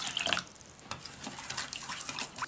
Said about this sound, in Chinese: 加点清水，